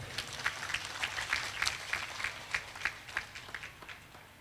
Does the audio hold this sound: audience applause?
yes